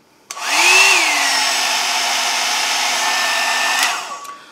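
A hot air blow brush on its medium setting switches on with a click, whirs up to a steady whining hum for about three seconds, then clicks off and winds down, loud and close.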